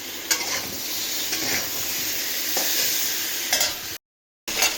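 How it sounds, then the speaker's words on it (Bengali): Potatoes fry in oil with salt, turmeric and Kashmiri chilli powder in a pan, giving a steady close sizzle with occasional scrapes of stirring before a brief drop to silence near the end. "দিয়ে লাল করে ভাজছি আলুটাকে।"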